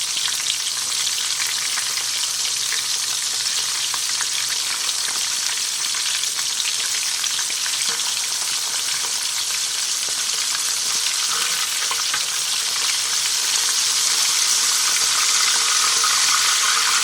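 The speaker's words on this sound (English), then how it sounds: "So I think I'm going to go ahead and give these a flip." Pieces of fried chicken cook in hot oil, producing a dense, loud, steady crackling sizzle close by that continues unbroken for the whole stretch.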